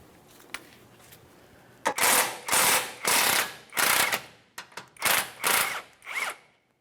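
Ratchet rapidly clicking in a series of about seven close, loud bursts with short pauses while backing out a lower control arm mounting bolt on a 2017-2024 GMC Acadia front suspension.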